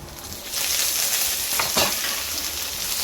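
Seafood goes into a hot pan with sautéed onion and capsicum, and a loud, steady sizzle of stir-frying swells after the first half second and holds close throughout, with no voices.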